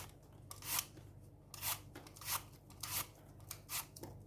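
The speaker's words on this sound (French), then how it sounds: "Pour ce faire, il faut éplucher les pommes" Apples being peeled by hand for an apple and walnut cake, giving a run of short scraping, rasping strokes that repeat at an irregular rhythm, close and quiet.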